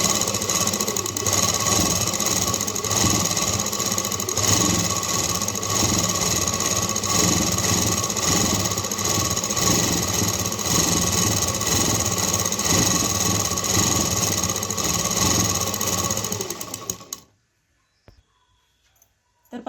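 A sewing machine runs continuously while darning a repair on torn, burnt cloth, a steady close mechanical whir for most of the time, then it stops and falls silent near the end.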